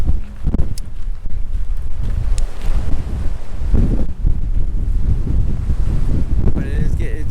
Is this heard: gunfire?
no